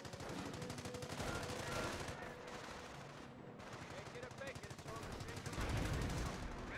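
Light machine gun fire in the strategy video game Company of Heroes, a dense, sustained rattle of rapid bursts mixed with other battle noise, continuing loudly throughout the clip.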